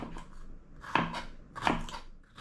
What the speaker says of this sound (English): there's a jalapeno pepper. I just slice it like this right here